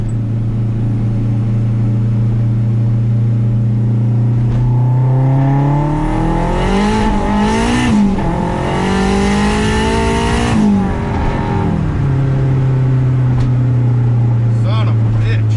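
Turbocharged 500 hp K24-powered car on a street, idling at first, then revving hard through a rising, roaring pull before settling back to idle, with someone speaking over it.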